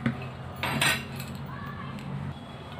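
A spoon clinks against a bowl while baking powder is added, a few sharp metallic taps and a scraping rattle close by, with faint background hum.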